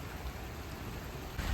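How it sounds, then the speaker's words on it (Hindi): Heavy rain pours steadily in the UK while a truck is loaded with heavy goods outdoors, giving a dense, even wash of rainfall that swells slightly louder at the end. "इतनी तेज़ बारिश है"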